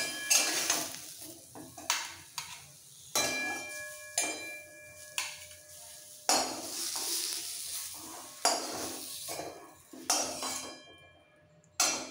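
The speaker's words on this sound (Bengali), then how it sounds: "মশলা সমেত খারকোল পাতা আমি ছোট মিক্সির জারে তুলে নিচ্ছি।" A spoon scrapes and taps as spiced kharkol leaves are transferred from a pan into a small mixer jar, giving repeated close clinks and scraping strokes with brief pauses between.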